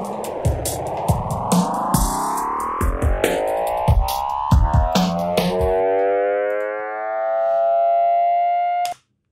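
A delay effect plugin produces sweeping, siren-like tones that rise and fall in pitch, with repeating echoes stacking into a dense, spacey wash before trailing off and cutting out abruptly near the end.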